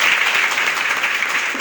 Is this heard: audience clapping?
yes